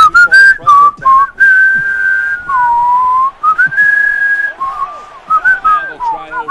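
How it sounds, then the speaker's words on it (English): A person whistles a theme melody close by, clear sustained and gliding notes with brief pauses between phrases, with faint background noise beneath. "we better stop whistling though, because if we put this video on YouTube, I don't want to get it taken down for copyright infringement"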